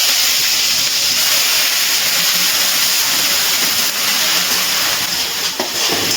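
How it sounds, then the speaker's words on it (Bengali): Onion paste frying in hot oil until reddish for chicken Mughlai paratha, a loud, even, hissing sizzle that holds steady throughout with no talking. "পেঁয়াজ বাটাটা কিন্তু আমি একটু লাল লাল করে ভেজে নিচ্ছি।"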